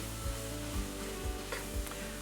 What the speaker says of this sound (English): I'm going to fold the flour into the veggies really good